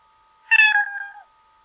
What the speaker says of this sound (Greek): Ας παίξει τον ήχο μιάου, γιατί είναι και της γάτας.